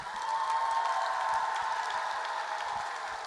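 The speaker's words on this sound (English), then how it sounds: "And let's have a round of applause for all the poets in the first round." Steady crowd clapping at a poetry slam for the first-round poets, a sustained hiss of many hands at moderate volume with no voices over it.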